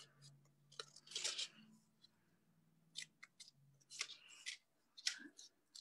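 Scissors snip through paper being trimmed for a holiday snap frame, crisp short cuts coming in irregular clusters close by, with faint low talk in between.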